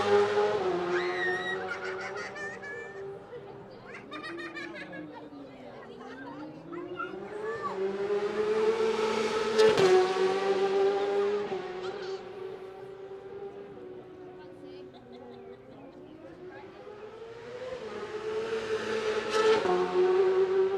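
Isle of Man TT racing motorcycles scream past a pit lane one after another at the start of a qualifying session, each rising and fading engine wail overlapping, with crowd voices faintly beneath.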